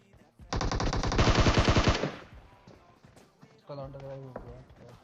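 Automatic weapon fire rattles in a rapid loud burst of shots in a battle royale video game, then fades to scattered sounds as someone talks over the gameplay.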